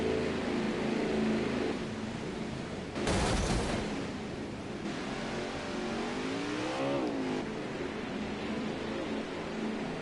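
Race cars on the Road America circuit during an HPL Cup Series race, engines droning steadily with a loud close pass bursting through partway and another car's rising and falling engine note later.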